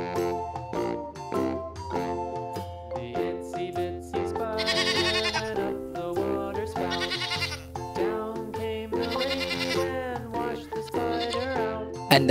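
Goats bleat repeatedly in wavering, nasal cries over a steady musical backing with light jingling, the calls loud and close.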